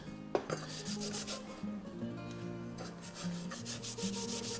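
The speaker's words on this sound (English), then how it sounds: "I'm gonna use some, like I said, just some Scotch-Brite to try to clean these up" A Scotch-Brite pad scrubs oxidized metal parts of a vintage EZ-Seat shop creeper stool, giving a steady, close abrasive rubbing with short rhythmic strokes over a low background hum.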